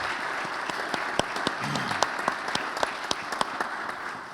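An event audience applauds Dr. Tesla at a 60th anniversary gathering for Letters From a Birmingham Jail, a steady wash of clapping from a crowd with sharper individual claps popping out, held throughout without talk.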